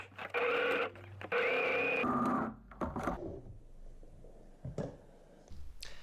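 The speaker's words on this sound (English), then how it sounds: "we're just going to sew directly across here on both sides." Sewing machine stitching a seam across a fabric bike seat bag, running in two loud, steady motor bursts followed by quieter clicks and handling noises close by.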